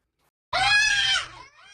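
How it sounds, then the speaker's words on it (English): A little girl at a daycare screams loudly during an Easter Bunny visit, one sharp piercing shriek lasting about a second, then a fainter tail. "The screaming by this little girl lasted just a few seconds when the Easter Bunny paid a visit to her daycare."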